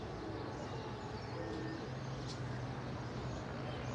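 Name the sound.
pigeon cooing and flying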